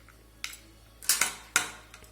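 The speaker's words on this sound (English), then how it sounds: "Now mix it well with the help of a spoon." A spoon clinks and scrapes against a bowl as a salad seasoned with black salt is mixed, a few sharp irregular clatters, quiet and close, with no talk.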